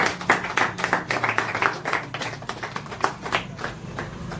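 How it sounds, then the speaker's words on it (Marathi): A small group clapping at a unisex salon anniversary gathering: brisk, uneven hand claps that keep up a fairly steady patter, close by and moderately loud. "टाळ्या जरा सगळ्यांनी"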